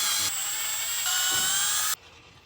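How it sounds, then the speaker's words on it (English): A battery screwdriver backs screws out of a trapdoor arm on a Bonafide PWR 129 boat, giving a high, close whine that shifts pitch once partway through before cutting off abruptly. "I'm taking these 4 screws out."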